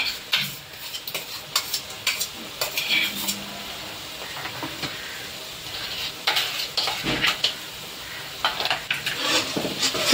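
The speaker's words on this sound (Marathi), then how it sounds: "आता याला 4-5 मिनिटं असंच परतत राहायचं" Masala paste for paneer curry being stirred and sautéed in oil in a pan, a spoon scraping and clanking against the metal in busy bursts over a constant sizzle, close and fairly loud, with no voices.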